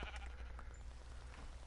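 A video-game sheep bleats in a short quavering cry over a steady low background hum, with no other sounds standing out.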